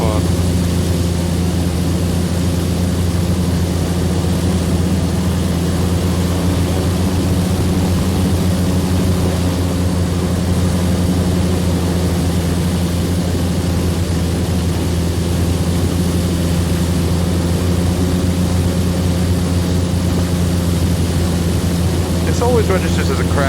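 Airplane engine in X-Plane VR during a clumsy takeoff, a loud, steady droning roar with a constant low hum and airy noise lasting throughout without letup.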